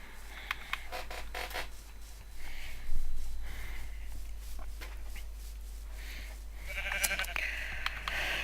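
Soft blocky sheep in the Minecraft video game give a few short bleats, fairly faint, spaced out among light in-game ambient sounds with no talking.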